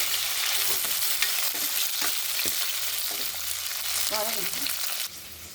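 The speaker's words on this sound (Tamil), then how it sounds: "நல்லா வதக்கிட்டோம்" Curry ingredients, including small onions and tomato, sauté and sizzle in a pan with steady crackling and spatula scrapes, close and loud, with a brief clink near the end and no talk.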